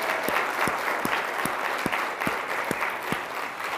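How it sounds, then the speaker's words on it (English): Round of applause from the audience at a Direct Sellers Day 2022 event for the organizers, steady clapping with a few distinct rhythmic claps standing out close by. "Can we just give a big round of applause for the organizers of this event as well?"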